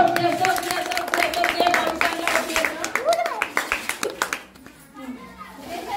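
Children clap together at a primary school entrance festival, a run of sharp, evenly spaced claps building near the middle and then breaking off, with an adult voice and children's chatter around them.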